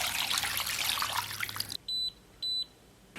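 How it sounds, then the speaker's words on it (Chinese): Water pours into a small two-tier pot holding chicken pieces and a drumstick, a steady splashing rush for under two seconds, followed by two short, clear electronic beeps. "然后给锅里边稍微来点水"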